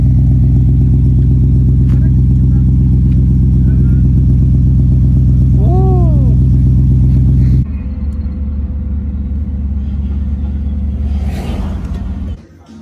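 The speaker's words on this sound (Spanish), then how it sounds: "Estás viendo los motores de la competencia" Several competition engines rev steadily and loudly up close with a deep droning rumble, then drop to a lower idle-like rumble with clatter before fading at the end; voices talk in the background.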